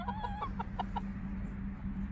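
Chickens in a backyard coop give several close, short clucks in the first second, then settle under a low steady hum.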